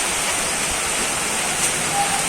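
Heavy rainfall with hail in Sirajganj, a dense, steady roar of rain with no break, close and loud throughout.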